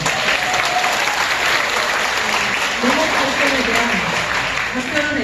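A crowd at a Pyeongtaek farming college sports day claps after the mayor's speech, dense applause that stays strong and close for the whole span.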